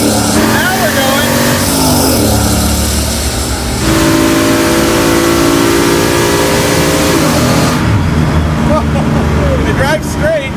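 A 600-plus horsepower LS-engined car pulls away in a loud, sustained acceleration that dips briefly and then surges again. Wind and road roar ride underneath, and people talk over the engine near the end.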